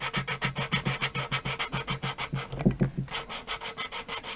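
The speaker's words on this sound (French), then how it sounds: "Alors, tant que ça gratte, ça marche." Side valves of a Stiga VS 150 lawnmower engine being lapped in, a steady back-and-forth scraping grind in quick regular strokes, close and fairly loud, with a brief change in the rhythm partway through.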